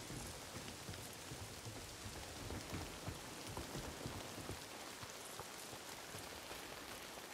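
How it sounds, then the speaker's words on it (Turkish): Rain falling in the video game Days Gone, a dense, steady hiss of drops hitting surfaces, close and constant without pause. "Yağmura mı uyandık gerçekten ya?"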